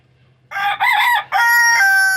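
A rooster crows once nearby, loud and clear, a long multi-part cock-a-doodle-doo rising and stretching out over a quiet background hum.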